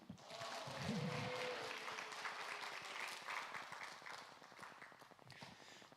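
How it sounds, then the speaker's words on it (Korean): A church congregation at a prayer house claps during an evening service, a broad wash of many hands sounding fairly faint and distant, with a voice rising briefly near the start. "오늘 밤 큰 은혜 받기 원하시는 분들은 한번 박수 치면서 아멘."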